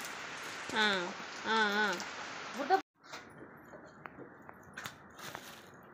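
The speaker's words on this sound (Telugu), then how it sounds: "ఇక అందుకని వర్షం పడుతుంది, మబ్బు కూడా ఫుల్గా చేసింది" Rain falls steadily outdoors under heavy cloud, a soft hiss with scattered drop ticks that follows a few seconds of a voice talking.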